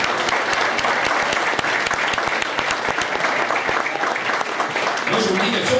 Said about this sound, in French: Bon applaudissement, s'il vous plaît.